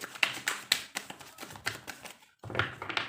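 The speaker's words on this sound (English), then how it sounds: "One last shuffle." A series of quick crisp riffling taps of tarot cards being shuffled close up, in several short bursts with a brief pause before a final flurry.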